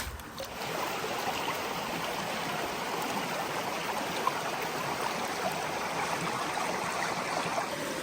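River water rushes steadily through a Kreeger sluice box in a Connecticut river, a constant close, broadband wash with no pauses and no voices.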